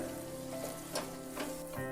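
Flour roasts in a kadai for Gujarati adadiya pak, with a soft, steady sizzle and faint stirring scrapes, quiet and without talk.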